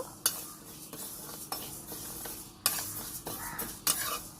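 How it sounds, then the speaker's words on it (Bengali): Mung dal ingredients frying in a pan while being stirred, a soft sizzle broken by several sharp utensil clanks and scrapes against the pan at irregular intervals, close and fairly quiet. "লাল লাল করে একটু ভেজে নেব"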